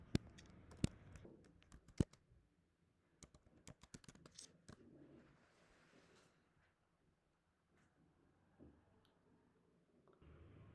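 Close, quiet typing on a computer keyboard as a ChatGPT prompt is entered: clusters of sharp key clicks with a few louder taps, then brief pauses near the end.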